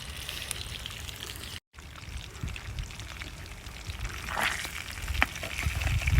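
Hilsa fish sizzle and spit in hot oil in a pan over a wood-fired stove outdoors, a steady close crackling hiss that swells louder toward the end with a brief dropout early on.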